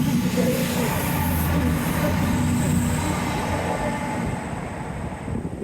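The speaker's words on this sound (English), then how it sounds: "Real train, yay!" A train rumbles past nearby on the seawall at Teignmouth with a steady mechanical roar and faint wheel squeal, fading gradually toward the end.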